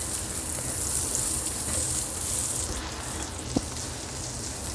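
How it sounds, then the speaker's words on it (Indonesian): Shallots, garlic and ginger sauté in hot oil in a pan, giving a steady, even sizzle that runs through the whole stretch with no one speaking, and a single soft tap near the end. "Kita tumis dulu ya biar wangi"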